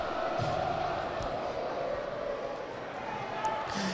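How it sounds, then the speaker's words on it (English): Hockey fans in an arena roaring and screaming after a goal in a boys' high school playoff game, a dense, steady wall of crowd noise with shouting voices throughout. "St. John's Prep's crowd is going crazy"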